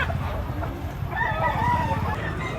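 A rooster, a big green-legged bull stag gamecock, crows once nearby, its drawn-out call rising over a low background rumble and faint murmur.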